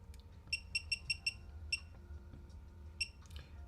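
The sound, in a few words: device buzzer alarm beeping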